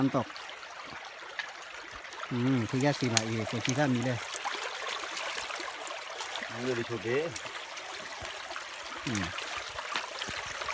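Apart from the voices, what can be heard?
waterfall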